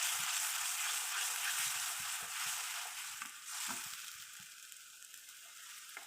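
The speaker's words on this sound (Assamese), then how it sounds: "এইখিনি অলপ সময় মই ভাজি ল'ম।" A paste of onion, tomato, ginger and garlic fries in a pan with a soft, continuous sizzle and a few light stirring taps, gradually easing quieter over several seconds.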